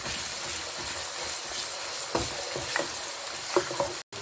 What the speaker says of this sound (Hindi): ½ kg बोनलेस चिकन लिया है ब्रेस्ट का, इसको हम डाल देंगे और इसके अंदर अब भूनेंगे इसको